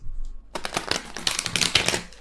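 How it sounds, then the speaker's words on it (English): A deck of tarot cards is shuffled by hand after a brief quiet start, giving a rapid, dense run of close, crisp riffling clicks that continues steadily to the end. "bear with me as I try to shuffle these cards like a normal person"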